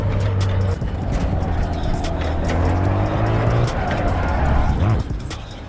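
A damaged car with suspension trouble in the racing game Assetto Corsa EVO hums along with a steady engine drone and varying pitch, loud and continuous, while someone talks over it.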